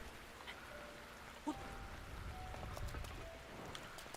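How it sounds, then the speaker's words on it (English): Rain falls in the open-world game Breath of the Wild, a faint, steady hiss of raindrops with a soft knock and a few quiet game tones, and no talking. "it's gonna be hard with all the rain right now"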